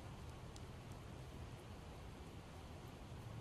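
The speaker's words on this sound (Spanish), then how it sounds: "No veas cómo llueve, cómo está apretando otra vez." Heavy rain in the video game Project Zomboid, a dense, steady hiss of downpour with occasional faint drips, constant and even throughout.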